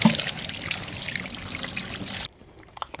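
Tap water runs and splashes steadily while a giant squid is washed for cooking, close and fairly loud, then cuts off near the end leaving faint drips and handling noises.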